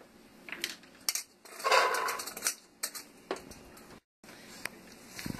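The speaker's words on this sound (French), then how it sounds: "Dans la casserole, j'ajoute tous mes légumes." Vegetables tipped into a saucepan over medium heat with olive oil for chicken noodle soup and stirred, giving close, irregular clinks and scrapes of a utensil against the pot, with brief pauses between.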